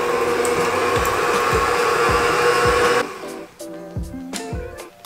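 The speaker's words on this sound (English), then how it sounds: "I got my mixer ready, and now it's time to blend the cream cheese and butter together." An electric hand mixer beats cream cheese and butter together in a bowl, a loud steady motor whir with repeated beater knocks against the bowl, then it drops to a lower speed with softer clatter.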